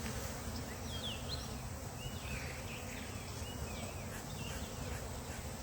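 Honey bees buzz around a hive in a soft, continuous drone, faint and steady, with a few higher insect whines drifting through.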